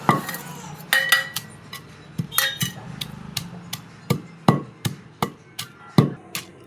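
Cumin, shallots and onion pounded in a stone mortar for a dried red chilli and tomato chutney, giving a steady series of sharp knocks and clinks, close and fairly loud, with no talk.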